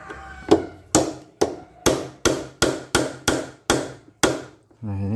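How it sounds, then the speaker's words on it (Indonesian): About ten sharp metal knocks tap a Honda Vario steering head nut to tighten it, struck at an uneven pace with brief ringing decay, close and loud, ending in a low rumble. "Ini saya ketok aja biar jalan sedikit."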